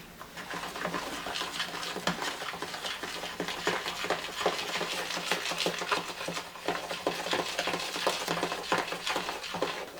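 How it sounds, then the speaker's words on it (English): A hibiscus powder conditioner mix stirred in a bowl, giving a continuous run of quick scraping clicks and taps, steady and close throughout with no talking. "So now we have this lovely mix, and we're going to just stir."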